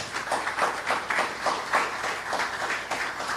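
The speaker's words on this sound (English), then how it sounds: "Let us show this gratitude by giving them a lusty round of applause" An audience at a sports event launch gives a round of applause, a steady wash of many hands clapping together at moderate loudness, continuing throughout without speech.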